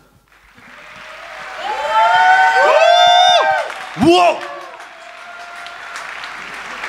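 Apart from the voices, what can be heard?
audience applause at film premiere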